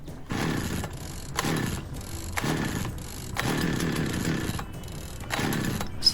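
A petrol chainsaw that has sat unused is cranked repeatedly, giving a rhythmic series of loud, close pull-and-sputter bursts separated by brief gaps as the engine tries to catch.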